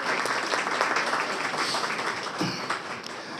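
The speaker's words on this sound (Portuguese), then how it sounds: "eu peço a todos vocês aí uma salva de palmas para essa equipe maravilhosa aí" Dense applause from a crowd gathered for an opening event in Santa Maria, Distrito Federal, a steady wash of many hands clapping at close range that holds loud throughout with no break.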